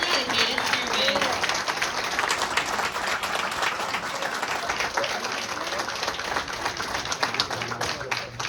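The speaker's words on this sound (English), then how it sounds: "Please give him a round of applause." Sustained applause from an audience at a US Army retirement ceremony honoring a retiring soldier, dense steady clapping filling the whole stretch with some crowd noise underneath.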